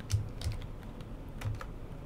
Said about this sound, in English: we're going to type Excel